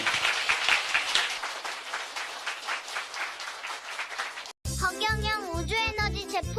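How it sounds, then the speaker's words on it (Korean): Audience applause rolls on as a dense, even patter of clapping for about four and a half seconds, then cuts abruptly to music. "박수 박수."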